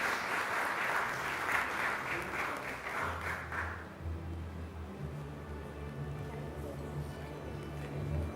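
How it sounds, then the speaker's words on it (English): An audience at a business conclave applauds a panel, with a burst of clapping that fades out after about four seconds into a quieter room hum and some low murmuring. "Ladies and gentlemen, big round of applause for this lovely panel."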